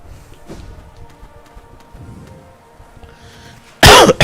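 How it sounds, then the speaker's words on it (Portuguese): A single loud, sharp cough bursts out near the end after a stretch of quiet background game sound. "Desculpem, tossi."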